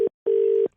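A telephone line tone while a call is placed: a short steady beep, a brief pause, then a longer unbroken tone, clean and close.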